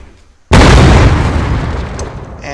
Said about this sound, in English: So you notice the explosion was kind of pitiful, the particle.